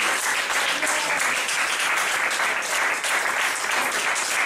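Church congregation applauding at a worship service, a dense, steady wall of clapping that carries at an even level for the whole span, with no talk over it.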